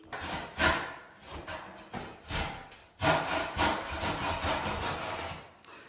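A hand saw rasps through plasterboard in steady back-and-forth strokes, quiet and close, pausing briefly once before the strokes resume.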